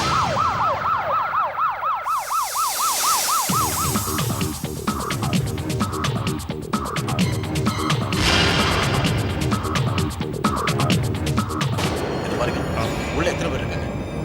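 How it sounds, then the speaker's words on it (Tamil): An ambulance siren wails loud and close in a Tamil crime drama scene, its rising and falling tone repeating and then switching to a faster yelp over dense background sound. "உடனடியா ஆம்புலன்ஸ்க்கு ஏற்பாடு பண்ணிக்க"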